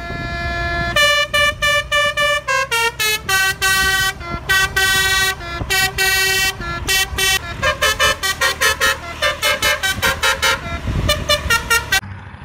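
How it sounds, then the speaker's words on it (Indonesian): Subur Jaya bus sounding a loud, musical multi-tone horn close by, playing a long run of rhythmic melodic blasts and short toots with brief gaps, over a faint rumble of traffic. "Kali ini ada bus Subur Jaya teman-teman."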